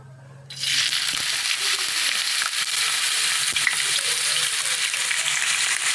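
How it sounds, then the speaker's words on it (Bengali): Potato pieces hit hot oil with a sudden loud burst of sizzling that then holds steady and dense, close by, with faint scraping beneath and no talking. "এবার তেল দিয়ে এবার আলুগুলো দিয়ে দেবো এক এক করে"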